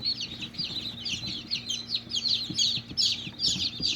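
Healthy chicks hatched in an incubator peep rapidly and continuously close by, with bright overlapping chirps over a low steady hum.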